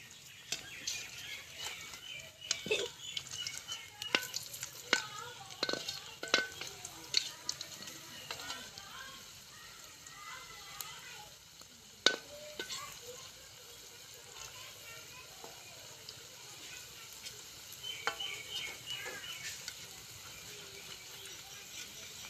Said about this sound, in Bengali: আমি দুই দিকে কিন্তু উলট পালট করে ভালো করে ভেজে নেব।